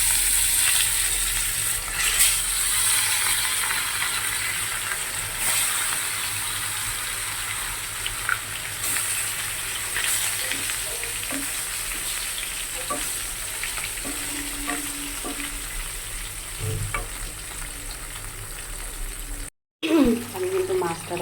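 Fish slipped into hot oil in a kadai with onions already browned gives a loud, continuous sizzle and bubbling. Scraping and stirring noises come close to the pan, there is a brief dropout near the end, and then the frying resumes.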